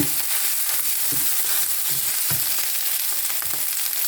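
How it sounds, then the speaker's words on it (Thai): Chili paste with fresh chilies stir-fried in a pan for a spicy fish ball stir-fry, giving a steady close sizzle with repeated scraping stirs at an uneven rhythm and no voices. "เอาละนะผัดกัน"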